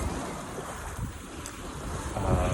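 A sailboat on a solo Atlantic crossing moves along at almost five knots on a reach in light wind, with a steady wash of water along the hull and soft wind rumble, swelling slightly toward the end.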